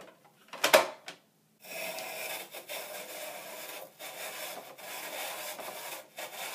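A Paderno spiral vegetable slicer cuts thick slices from a vegetable, giving a steady close scraping and rubbing crunch with a few short pauses and a sharp initial knock.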